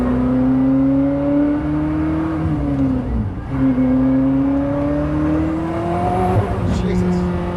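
Racing-game car engine revving steadily with automatic throttle blips on downshifts, pitch sweeping up and down, loud and continuous, with a voice talking underneath.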